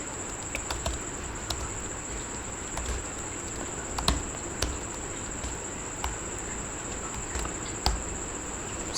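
Keys on a computer keyboard are tapped in light, irregular clicks at a moderate distance, set against a faint steady hiss and a high electronic whine.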